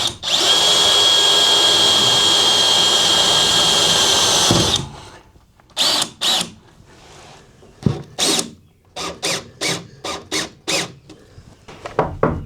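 A loud, steady whine of a power drill driving a screw into steel on a bus for several seconds, then a series of short, stuttering drill bursts.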